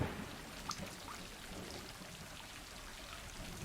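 Steady rain falling outside near a den, a soft continuous hiss with faint patter of drops, quiet and unbroken, no voices.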